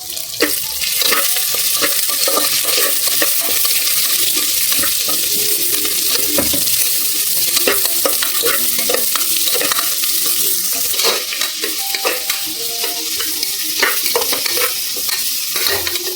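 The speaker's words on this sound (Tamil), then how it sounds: "இது நல்லா பொன்னிறமாக ஆகிற வரைக்கும் நல்லா வதக்கிக்கணும்" Sliced onions sauté in a pan until golden for hotel-style parotta salna, with a loud, continuous sizzle and repeated scraping stirs of a spoon against the pan throughout. No one speaks over it.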